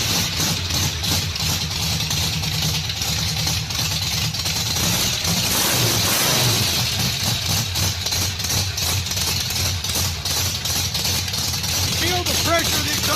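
An engine fitted with a Holley carburetor and headers idles nearby with a steady low rumble and throb, while someone talks over it throughout.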